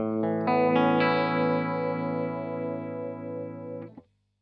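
A sustained electric guitar chord rings out with a swirling, sweeping Effectrode Phaseomatic Deluxe phaser modulation, mixed half dry and half modulated, then cuts off abruptly near the end.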